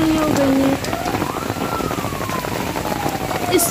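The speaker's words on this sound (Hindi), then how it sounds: "इस वक्त काफ़ी तेज़ बारिश हो रही थी" Heavy rain pours down steadily in a residential neighbourhood, a loud continuous hiss of drops on surfaces throughout, with a faint tonal sound drifting over it.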